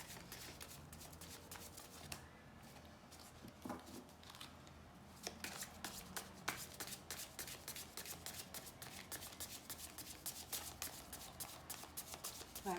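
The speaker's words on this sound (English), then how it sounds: "Last shuffle, then I take from the middle." Oracle cards from a Froud faerie deck are shuffled by hand in quick, crisp bursts of riffling and sliding, with a short pause partway through, close and fairly quiet throughout.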